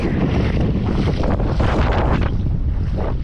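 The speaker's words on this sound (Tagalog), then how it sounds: "Yan, sumimi ng amihan." Strong northeast monsoon wind gusting at sea, a continuous loud roar of wind buffeting the microphone with rushing water and waves around a boat, no voices.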